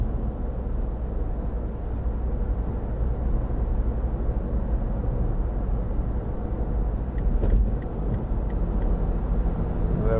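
Interior of a 2012 MINI Countryman Cooper SD, 2.0 diesel automatic, cruising at about 70 mph near 2,000 rpm: a steady low engine and road rumble with constant tyre noise and a brief bump partway through, no talking.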